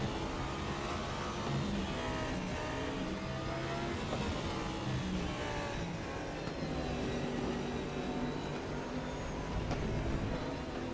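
Several race cars in an ADAC Audi series roar around the Sachsenring circuit in the Raceroom sim. The engines drone loudly and continuously, layered together as the pack runs close, with no talking.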